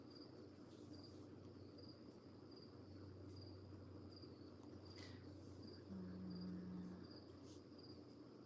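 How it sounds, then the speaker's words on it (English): Crickets chirp outside at night in a steady, faint rhythm of short repeated pulses over a low background hum, with no one talking. "Can you guys hear the crickets going outside?"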